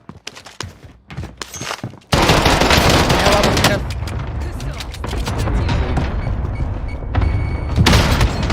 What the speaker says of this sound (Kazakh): Союзник проводит кластерную бомбардировку